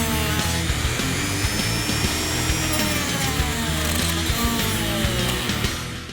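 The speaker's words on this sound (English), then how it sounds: "either get a small drill and drill the heads or use a Dremel" A rotary tool grinds steadily through plastic rivet heads on a 2015-2017 Ford Mustang shift boot, a high whining buzz, continuous and close, with small shifts in pitch as it bites into material.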